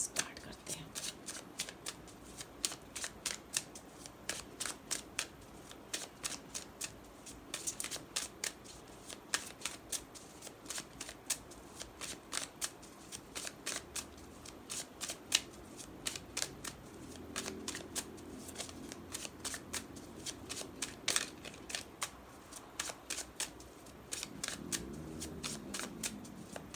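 A tarot card deck is shuffled continuously at close range, with dense, rapid riffling clicks and flutters that keep going with barely a pause.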